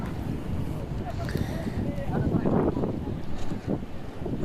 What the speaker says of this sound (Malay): kebetulan hari ni angin betul kencang